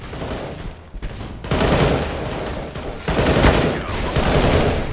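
Sustained gunfire and explosive bursts erupt in a Counter-Strike: Global Offensive roleplay match as a house blows up, with dense overlapping shots and blasts filling five loud seconds without speech.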